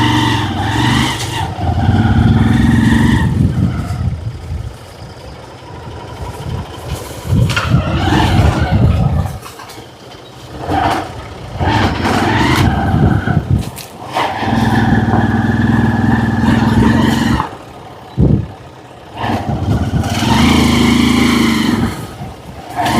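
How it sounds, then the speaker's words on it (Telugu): A motorcycle rides along a rural road, its engine loud and close, rising and falling with gear changes and briefly dropping off a few times, with little talk. "బైక్ మీద వెళ్తున్నాం."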